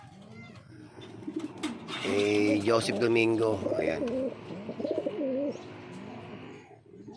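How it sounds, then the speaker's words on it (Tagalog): A borrowed pet pigeon coos several times at close range, and people talk over and around the calls. "tingnan ko kay Joseph yung, ibon na hinaram ko"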